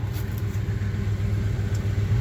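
A 1978 Chevy C10 pickup engine runs steadily just after a cold start, giving a continuous low idling rumble with an even mechanical throb close by and no talking.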